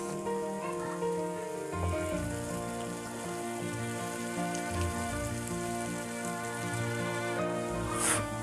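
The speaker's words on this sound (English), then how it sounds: "Fry off those green chilies for a minute" Green chilies fry with browned onions, ginger and garlic in a pan, giving a faint, steady sizzle with soft crackles and music-like tones underneath.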